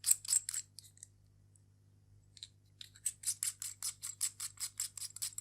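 Clicks and snaps of a battery being fitted into a Boya BY-M1 microphone's transmitter pack, sharp close plastic ticks in a quick burst, a pause, then a steady run of rhythmic clicks with no talking.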